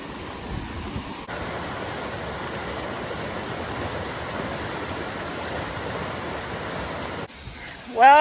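Waterfall on Commerce Creek along the Appalachian Trail, a broad steady rushing roar of falling water close by, unbroken for several seconds before cutting off into quieter ambience.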